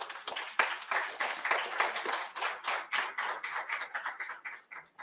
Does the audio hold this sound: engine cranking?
no